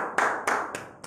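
Four separate hand claps at a steady, slightly uneven pace during a lively Wednesday church program, close and fairly loud against a quiet background, with no talking.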